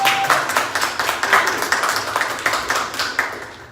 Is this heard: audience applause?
yes